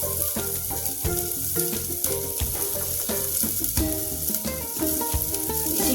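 Green chillies frying to light brown in a pan of hot oil give off a loud, steady, close sizzle with occasional stirring scrapes and a tonal backing throughout.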